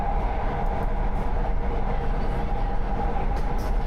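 A Tyne and Wear Metro train departing a station in the Newcastle area, rumbling on the rails with a steady mechanical roar and faint clatter, a continuous low drone close by.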